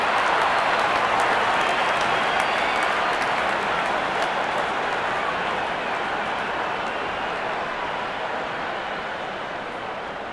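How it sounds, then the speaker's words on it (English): A cricket crowd applauds steadily after a batsman reaches his double hundred, a dense, sustained roar of clapping from a large stadium audience that thins gradually toward the end. "His team gets the applause they deserve"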